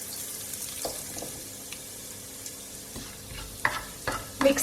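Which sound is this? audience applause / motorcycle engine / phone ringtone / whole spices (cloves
whole spices (cloves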